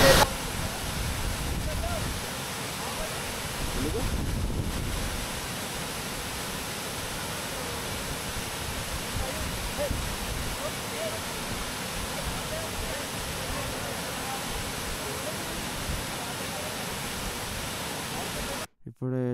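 Kusrampalli waterfall near Chincholi wildlife sanctuary pours as a loud, constant broadband roar, close and unbroken for the whole stretch and cutting off briefly near the end.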